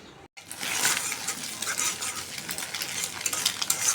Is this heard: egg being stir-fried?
yes